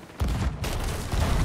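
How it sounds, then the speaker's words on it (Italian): Booming cannon fire aboard a pirate ship in a video game: loud blasts with low rumbling bodies that start abruptly and keep going, one fresh burst arriving after another with no speech over them. "Vai al primo cannone e appena gli vedi sparagli."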